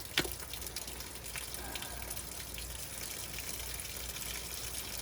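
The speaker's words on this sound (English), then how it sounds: "And then you see the water leaking" Water leaks steadily from a plumbing pipe in a gushing rush that runs evenly throughout, with a sharp click near the start.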